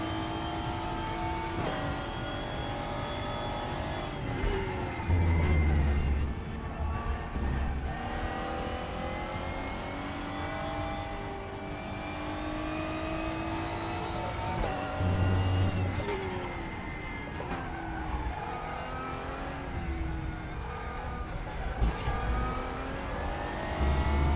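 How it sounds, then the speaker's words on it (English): A race car engine in the RaceRoom racing game revs hard, climbing repeatedly into the limiter with a harsh buzzing stutter, rising and falling through gear changes at a steady, loud level for the whole stretch. "I need to stop over revving the car so much."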